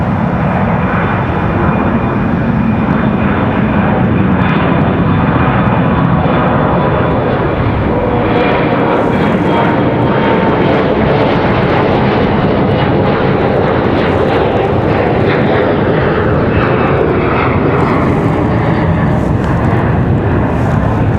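A jet airliner, an A340 bound for JFK, roars loud and close during a long level departure from Raleigh-Durham airport, a continuous broadband engine rumble with rising whine, no voices.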